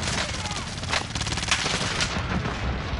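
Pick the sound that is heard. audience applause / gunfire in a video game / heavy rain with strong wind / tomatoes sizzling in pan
gunfire in a video game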